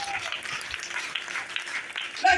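Church congregation clapping during a sermon, a dense, fairly soft spread of applause with a voice briefly rising at the end.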